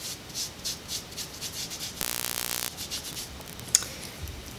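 Hand rubbing kinesiology tape onto the skin of the wrist, soft repeated close friction strokes with one brief harsher scratchy rub partway through.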